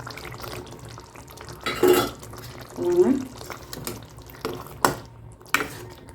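Paneer cubes dropped into gravy in a pan, giving soft wet plops and clinks of a spoon against the pan, with a voice talking in between.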